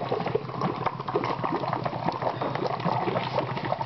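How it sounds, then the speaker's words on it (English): Water bubbles steadily through a pressure relief valve on a pressurized machine, a continuous fizzing, gurgling churn at moderate volume, close by and unbroken, with no talk. "We've reached a steady state bubbling there"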